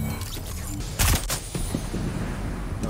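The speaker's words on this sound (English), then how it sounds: "We're being shot at by a big-ass spaceship" Gunfire from a spaceship in Fortnite, a loud burst of shots about a second in, then more scattered blasts over a constant dense game-sound background.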